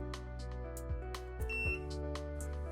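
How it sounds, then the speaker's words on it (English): Motorized window shade motor operated from an Alta Bliss remote, giving short tonal beeps with brief motor jogs, close and clear with no talking. "Press the P2 button and the motor will jog and beep one time."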